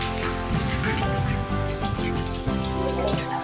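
Torrential rain pours down steadily outdoors, a dense continuous patter of drops striking surfaces and running water, loud and close throughout with no talk.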